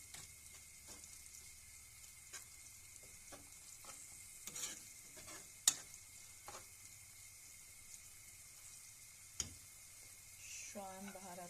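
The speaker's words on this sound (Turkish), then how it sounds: "böyle bir karıştırayım. Salça kokusunu alsın aldırayım." A spoon stirs tomato paste around a pan while it sizzles softly, with scattered scraping strokes and a few sharp clinks against the pan's side, all fairly quiet.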